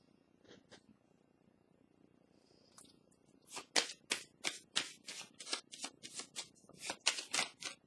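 Tarot cards being shuffled by hand, starting with a few soft rustles and then becoming a quick run of crisp, riffling bursts. Up close and fairly quiet, with no speech.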